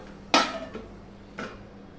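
A metal lid is set down on a cooking pot of vegetarian pumpkin curry, giving a sharp close clank followed by a smaller rattle and then a second, softer clatter as it settles. No talking.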